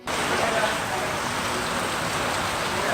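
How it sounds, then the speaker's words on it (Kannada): Heavy rain driven by strong wind during a storm in the Western Ghats hill region of Karnataka, a dense, steady hiss of downpour that stays loud and unbroken from start to finish, with no voices. "ಬಿರುಗಾಳಿ ಸಹಿತ ಮಳೆ ಆರ್ಭಟಕ್ಕೆ"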